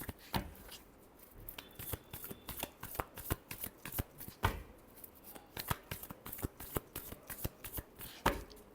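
Tarot cards are shuffled by hand for a weekly Aries reading, a long run of crisp, rapid riffling snaps and slaps close by, repeating steadily with brief pauses and no talking.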